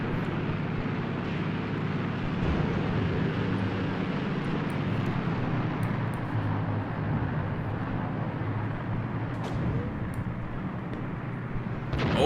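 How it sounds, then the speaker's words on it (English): Luftwaffe aircraft fly overhead during a German winter battle in the wartime strategy game Graviteam Tactics: Mius Front, making a steady, unbroken engine drone and rumble that stays loud throughout. "And the Luftwaffe is still in the sky, delivering hellfire to the enemy."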